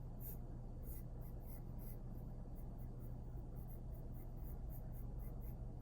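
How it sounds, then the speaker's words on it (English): Pen or pencil steadily scratching on paper while sketching a cup or mug, a continuous soft rasping stroke sound close by under a low constant hum. "I'm gonna draw a cup"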